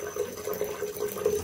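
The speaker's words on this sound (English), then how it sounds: "I'm just waiting for this thing to drain out here." Water draining steadily from a Bradford White gas hot water heater, a continuous close hiss and trickle at a constant level, with no voices.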